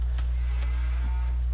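Cattle in Farming Simulator 2019 give a low, steady moo beneath a loud droning hum, with a few faint clicks on top.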